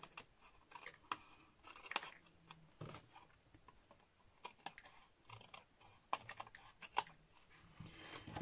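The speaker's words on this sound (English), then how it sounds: "with my snips I'm just going to cut that off" Quiet snipping of handheld snips trimming cardstock for handmade Stampin' Up! birthday cards, a series of sharp, irregular cuts close by with soft handling noise between them.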